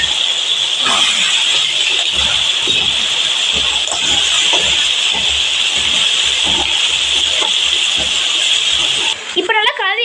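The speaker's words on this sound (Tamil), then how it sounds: "நாங்கள் 1 கிலோ நண்டையுமே அப்படியே சேர்த்துடுறோம்." One kilogram of crab for Chettinad-style nandu varuval goes into a hot spiced pan and sends up a loud, continuous steamy hiss and sizzle that holds for several seconds before briefly breaking off.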